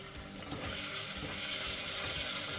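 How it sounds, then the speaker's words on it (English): Onions sauteing in hot ghee in a heavy-bottomed pan, a steady close sizzle and crackle with occasional stirring scrapes, continuous and fairly loud throughout with no talking. "Once the ghee is hot, add your onions and saute them till they are golden brown."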